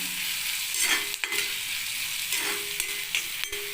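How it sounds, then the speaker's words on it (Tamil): Onions sauté in hot oil, a steady sizzle punctuated by a few sharp scrapes and taps of a spatula stirring the pan, close and moderately loud. "நல்லா வெங்காயத்தை நல்லா வதக்கிக்கோங்க"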